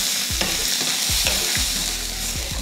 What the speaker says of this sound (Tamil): பீட்ரூட் வந்து நல்லா வதக்கியாச்சு